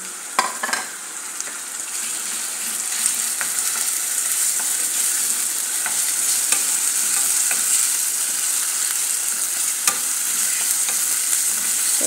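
Chicken and garlic frying in a pan while being stirred, a steady close sizzle with scraping stir strokes throughout and no talking.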